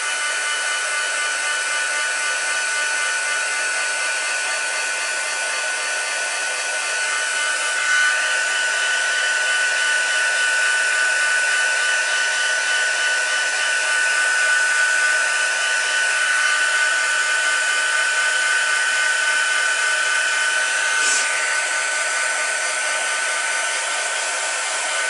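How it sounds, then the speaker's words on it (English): A heat tool dries watercolour paint on a handmade card with a steady, loud blowing whir that runs continuously and unchanged throughout, with no talk. "So I'm just going to get the heat tool a second."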